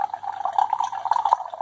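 Oatmeal stout beer is poured into a glass, a steady close liquid gurgle and splash with a bubbly, running-tap quality for nearly two seconds.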